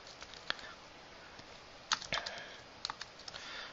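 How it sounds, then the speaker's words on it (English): Sparse keyboard typing on a computer, a few scattered key clicks and a short burst of taps, faint and alone. "then you can type text."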